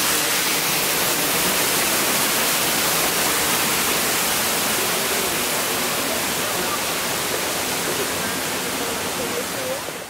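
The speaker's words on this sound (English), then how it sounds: "Backside of the waterfall." A steady, dense roar of a waterfall heard from close behind the falling water at a safari park, constant and loud throughout with no breaks.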